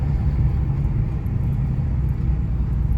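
A rebuilt 2012 Ford Mustang on its first drive, heard from inside as a steady low engine rumble and road noise at constant speed, with no talk.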